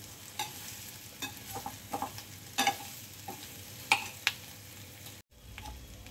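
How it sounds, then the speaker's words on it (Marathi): Soaked soybean chunks fry in a pan with a constant low sizzle, broken by irregular scraping stirs and spatula clicks against the pan, close and fairly quiet. "याच्यात आपण घालून घ्यायचं आणि चांगले फ्राय करून घ्यायचे याच्यात"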